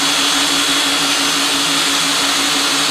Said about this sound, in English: lock the trigger. You can see the black sands coming out of it.